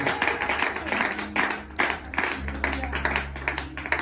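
A church congregation clapping and acclaiming Jesus at a seminar, rhythmic group claps in a steady beat with voices and music mixed underneath.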